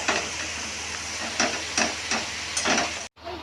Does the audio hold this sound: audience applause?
no